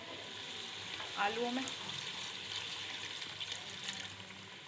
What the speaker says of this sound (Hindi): ये मैं आलू गलाने के लिए पानी शामिल कर रही हूँ